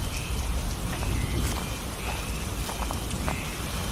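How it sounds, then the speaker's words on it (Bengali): Heavy rain pours down steadily and evenly in a storm with occasional thunder, a dense close hiss of drops with a low rumble underneath throughout. "মুষলধারে বৃষ্টি পড়ছে আর মাঝে মাঝে বজ্রপাতের শব্দ"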